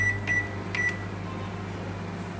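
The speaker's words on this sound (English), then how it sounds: "So again I am going to microwave it for another" A microwave oven hums steadily up close while cooking brinjal curry, with a few short beeps near the start and no talking.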